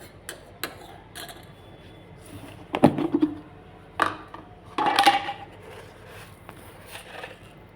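Spoon taps and clinks against a cup or container as sugar is added for tea in a home kitchen, a few sharp metallic ticks spaced apart with louder clattering bursts in between, in a quiet room.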